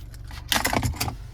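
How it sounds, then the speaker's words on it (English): A 2025 Ford Bronco Sport Big Bend key fob jangles in a brief, close metallic rattle of a few quick clinks over a low engine idle hum. "Finally, here's the key fob."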